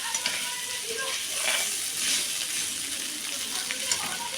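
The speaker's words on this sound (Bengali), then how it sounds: "ফুলকপিটাকে একটু লাল লাল করে ভেজে নিলে কি টেস্টটা আসে ভালো।" Cauliflower pieces fry in a pan to a reddish brown, a steady close sizzle with faint stirring scrapes running throughout.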